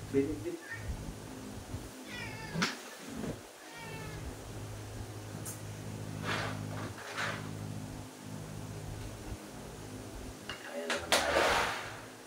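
A pet cat meows several times indoors, short plaintive calls spread across the clip, with people talking nearby and a few knocks like a drawer or cupboard.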